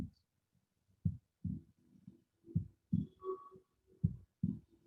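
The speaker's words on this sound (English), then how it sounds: "You can feel your heart beat." A slow, steady heartbeat thumps in low, soft double pulses, about seven beats spaced under a second apart, with faint background tones and no talking.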